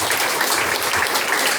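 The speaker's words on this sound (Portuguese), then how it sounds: "Aplauda o Senhor." A church congregation applauding during a communion service, a loud, dense patter of many hands clapping in a short, steady burst.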